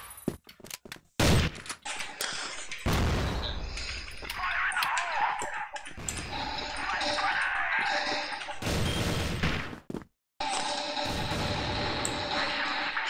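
Rapid bursts of gunfire from a competitive video game scrim match, loud and dense with repeated volleys and a few brief gaps, with no talk over it.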